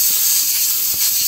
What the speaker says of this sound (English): Just take some compressed air and try to get that a little cleaner.